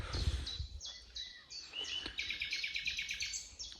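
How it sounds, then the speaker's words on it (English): Several birds chirp and sing in quick overlapping phrases, bright and fairly close, with no talking. "But the birds are singing and everybody's happy."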